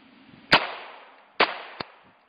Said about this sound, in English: Okay, two shots